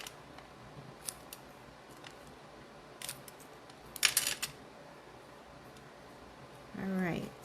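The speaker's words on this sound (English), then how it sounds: "And then we're just going to trim it." Scissors trimming card paper for a handmade greeting card, with a few faint snips and a brief cluster of closer cutting sounds near the middle, set against a quiet room and a short voice near the end.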